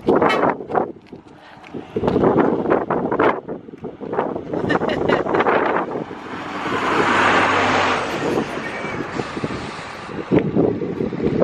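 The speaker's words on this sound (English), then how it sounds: "It's quite windy." Strong gusty wind buffets the microphone at the Mirador del Rio clifftop viewpoint on Lanzarote, a broad steady roar swelling in the middle, with people talking over it at the start and end.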